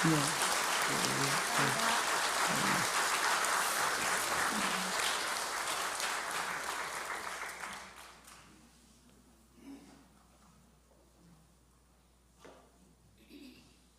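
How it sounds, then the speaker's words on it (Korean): Congregation applause at a Sunday church service, a dense, sustained wash of clapping for about eight seconds that then fades, leaving a quiet hall with a few faint scattered sounds. "우리 한번 다시 한번 박수 한번 할까요?"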